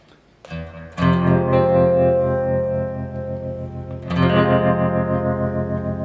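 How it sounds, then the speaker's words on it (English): Electric guitar chords ring out through a Mooer Trelicopter chorus/tremolo pedal, giving a wobbling, shimmering sustain. Two strums, the second about three seconds after the first, each left to ring and fade. "a pedal that I've loved for a long time is the Mooer Trelicopter"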